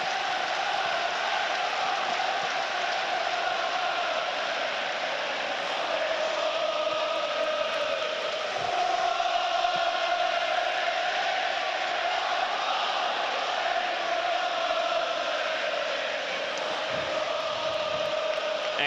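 A football stadium crowd at Sunderland versus Plymouth Argyle keeps up a steady, far-off roar of cheering and chanting beneath commentary.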